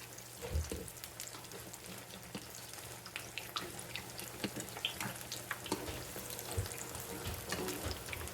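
Food fries in very hot oil, giving a faint, steady crackling hiss spotted with small pops and louder spits, close by and without talk.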